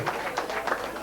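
An audience claps through a short burst of applause at a tribute event for Glasgow swing bandleader Harry Margolis, a steady patter of many hands with some crowd voices mixed in.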